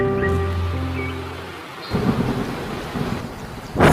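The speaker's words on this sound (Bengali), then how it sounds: "হঠাৎই চারদিক অন্ধকার হয়ে বৃষ্টি নামে।" Cartoon storm sound effect: a deep rolling thunder rumble fades out, then a dense hiss of heavy rain takes over, with a sharp thunder crack near the end.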